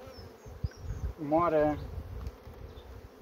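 Honey bees buzzing around a hive during formic acid treatment, a steady dense insect drone close by, with someone speaking briefly over the hum.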